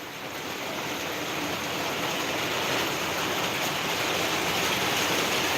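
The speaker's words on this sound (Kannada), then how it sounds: "ನಮ್ಮ ಮಲೆ ಮಹದೇಶ್ವರ ಬೆಟ್ಟ ಸುತ್ತಮುತ್ತ ಒಳ್ಳೆ ಮಳೆ ಆಯ್ತಿದೆ" Heavy rain pours steadily around the Male Mahadeshwara hills, a dense, loud, unbroken hiss with no pauses or voices.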